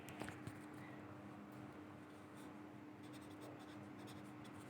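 Pen writing factors down while a grade 4 maths exercise is solved, faint scratchy strokes under a hissy, humming room background, quiet and continuous.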